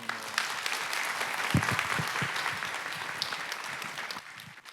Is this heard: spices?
no